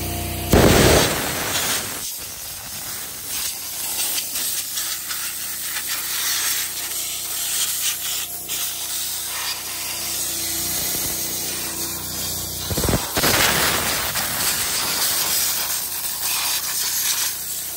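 A handheld air blowgun blasts dirt out of a 1988 Ford LGT18H riding mower that sat 12 years in a barn, a loud sustained broadband hiss with sharp bursts near the start and again late, the generator running underneath.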